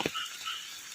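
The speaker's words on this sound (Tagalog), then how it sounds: "Ang ingay ng palaka." Frogs croak in the rain, with one loud burst near the start, then a steady patter and a dense, buzzing chorus of calls continuing close by.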